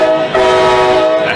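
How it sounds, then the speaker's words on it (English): A real train horn sounds alone and loud in a steady sustained blast with rich harmonics, holding nearly unbroken through the whole short stretch. "I'm going to play you the real train"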